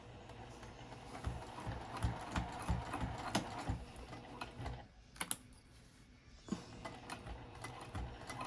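Sewing machine stitching the layers of a flat-bottomed zipper pouch, a steady mechanical rattle of rapid stitches that pauses briefly partway through and then resumes, heard close.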